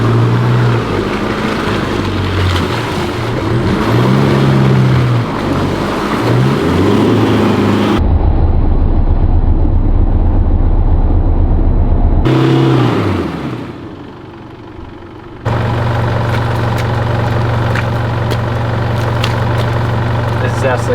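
A 4WD car engine idles steadily after hard revving on a wet, muddy forest track, a low continuous hum with a brief dip and cut midway before the steady idle resumes; voices are heard over it.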